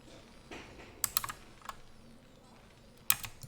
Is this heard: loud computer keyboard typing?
yes